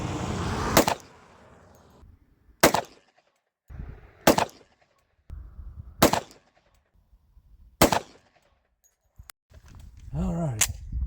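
A Glock G29 Gen 4 pistol fitted with a KKM barrel fires five loud, sharp single shots spaced a couple of seconds apart at a shooting range, with someone speaking in the gaps.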